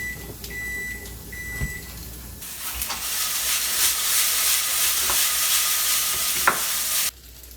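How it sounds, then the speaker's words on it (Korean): Leftover tteokbokki sauce and rice frying in a pan into sauce fried rice, a steady broadband sizzle with a faint stirring scrape, close and continuous, with no talk, cutting off abruptly near the end. "그 소스를 가지고 네, 맛있는 볶음밥을 좀해주도록 할게요"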